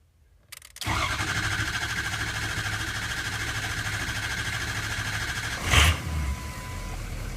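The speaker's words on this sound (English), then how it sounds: "So let's go ahead and start this truck up and see what happens." A Ford Powerstroke diesel truck engine cranks for an extended stretch, a steady grinding drone for several seconds, then catches with a brief loud burst as it fires and settles into a rough idle, heard up close with no talking.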